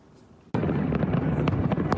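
Fireworks bursting at a July 4th celebration: a sudden loud boom, then a dense rumbling wash of crackles and pops with several sharp reports on top.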